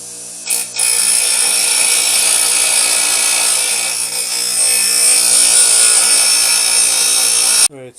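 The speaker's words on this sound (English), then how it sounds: "We'll go over to the grinder and get that taken care of." Grinder shaping scabbard pieces, a loud continuous high abrasive hiss and whine that holds steady for several seconds, with a brief dip early on and an abrupt stop at the end.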